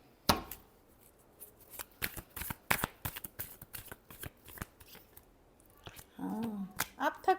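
Tarot cards shuffled by hand in quick, crisp bursts of riffling and slapping, close and fairly loud, with brief pauses between bursts and a moment of faint voice near the end.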